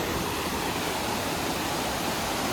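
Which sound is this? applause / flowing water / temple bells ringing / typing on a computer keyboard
flowing water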